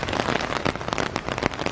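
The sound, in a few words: rain falling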